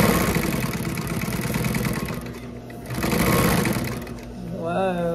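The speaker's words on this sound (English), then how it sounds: "lift that up, and then we'll turn around and sew it again" A sewing machine stitches a seat cushion during reupholstering, running in a steady mechanical chatter that pauses briefly and then resumes, while people talk over it nearby.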